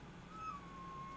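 A pet cat meows once, a thin drawn-out cry rising then sliding lower, fairly faint and close over a low steady room hum, with no talking.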